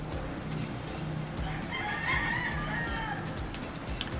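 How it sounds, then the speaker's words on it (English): Roosters crow over a busy farmyard background of clucking birds, the crowing fairly distant and mixed among other chicken noises. "Quiet down, roosters."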